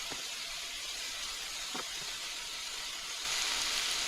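Chicken sizzles in a frying pan, a steady close hiss with a few faint clinks, growing a little louder near the end, no talk.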